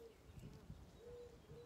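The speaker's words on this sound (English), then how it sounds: "Oh, there goes the doves. They're building a nest and they're saying goodbye." Doves cooing near blooming wisteria, a soft, low repeated coo heard faintly from nearby in a quiet outdoor setting.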